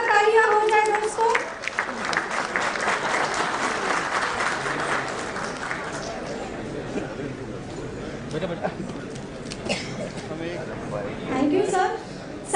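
Audience applause at a bank officers' association annual general meeting, a dense wash of clapping with crowd murmur and a voice speaking over it, continuing for over ten seconds.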